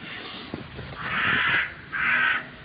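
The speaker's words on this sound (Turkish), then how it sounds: "Karga, karga sevmedim." A crow caws twice, harsh and fairly close, the calls separated by a short pause over a quiet outdoor background.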